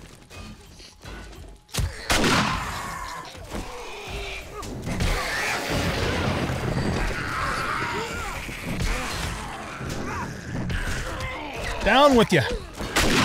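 Shotgun blasts during a horde night in 7 Days to Die, sharp booming shots scattered among other game noise while someone talks over the action.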